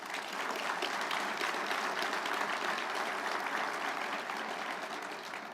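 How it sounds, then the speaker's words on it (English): A conference audience at a Navy keynote claps for the Chief of Naval Operations, a continuous, even wash of many hands clapping at moderate distance, sustained for several seconds with no voices over it. "How about a hand of applause for our CNO?"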